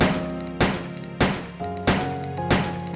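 Handgun shots ring out in Resident Evil: Code Veronica X, five sharp cracks fired at a steady pace about half a second apart, each one loud and close with a short ringing tail.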